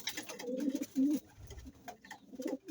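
Young pigeons in a loft coo in low, throaty bursts, two stronger coos close by followed by softer ones, with faint rustling between.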